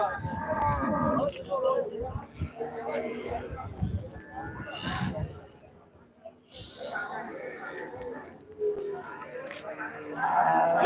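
Cattle moo several times, loud and close, with people talking between the calls, at the Manapparai cattle market in Tiruchirappalli district, Tamil Nadu.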